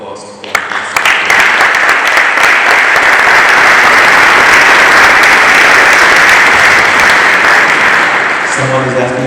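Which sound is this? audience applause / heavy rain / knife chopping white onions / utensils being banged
audience applause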